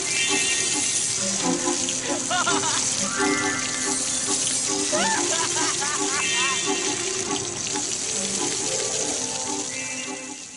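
Water runs steadily from a tap, a constant close splashing flow lasting about ten seconds, with other voice-like and tonal sounds layered over it.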